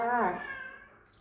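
A cat gives one short, clear meow, loud and close, that falls away quickly, while a woman cooks a pounded fish dish of climbing perch in a home kitchen.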